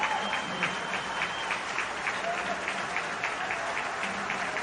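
A protest crowd applauds and cheers steadily, a continuous dense wash of clapping heard somewhat distant and muffled, as if replayed through a speaker.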